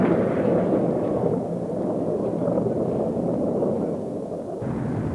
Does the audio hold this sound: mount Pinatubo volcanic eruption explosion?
yes